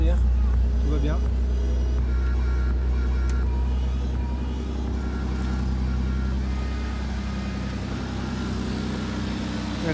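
A cold BMW engine idles steadily after an oil change, a deep continuous rumble close by with a faint mechanical hum on top, alongside some background talk.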